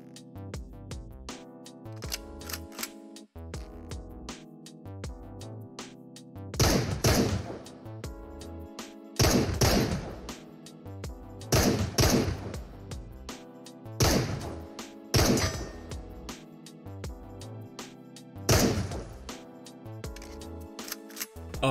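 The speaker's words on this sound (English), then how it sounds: "The Desert Eagle comes with a 9 round mag capacity and is chambered in 357 Magnum." Desert Eagle pistol chambered in .357 Magnum firing in the Into the Radius VR game, with about six sharp, heavy shots spaced a few seconds apart over a steady background hum, with no talking.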